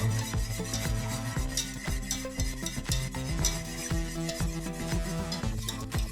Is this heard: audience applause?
no